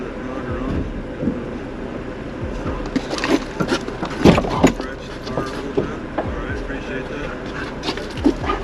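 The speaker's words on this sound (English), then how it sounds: "The young dog." A young police K-9 dog barks in short, irregular bursts over a busy, noisy background, with people talking nearby.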